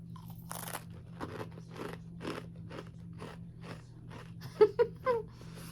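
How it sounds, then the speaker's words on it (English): A crunchy snack gets bitten and chewed up close, with a steady run of sharp, dry crunches over a low constant hum, followed by a few louder crackly bites near the end and no talking. "But just listen to this crunch."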